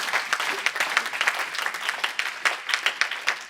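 A church congregation claps steadily through a sermon, dense irregular applause from many hands filling the room at moderate loudness without any talk.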